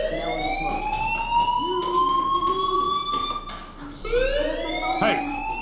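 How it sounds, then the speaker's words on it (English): A fire alarm blares in the Life is Strange Remastered video game, a loud continuous rising-and-falling siren tone that keeps wailing throughout, with a brief swell near the end. "Hey, do you hear that fire alarm?"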